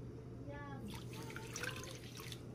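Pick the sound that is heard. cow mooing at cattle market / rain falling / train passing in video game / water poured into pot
water poured into pot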